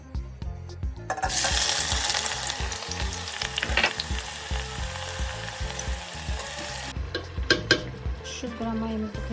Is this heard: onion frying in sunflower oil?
yes